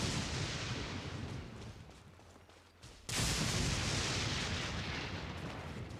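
Bombs exploding in a video game: a rumbling wash of blasts that dips briefly, then a sudden loud burst resumes the continuous explosive roar.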